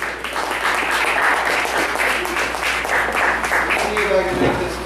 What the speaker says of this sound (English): let's give a big round of applause for our next poet